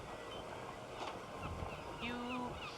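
Open-sea ambience track with seagulls: a steady wash of wind and surf under sparse gull cries, one clearer, drawn-out call near the end, plus a faint voice in the background.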